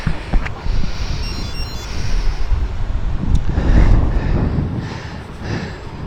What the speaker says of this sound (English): Yeah, the wind is certainly still there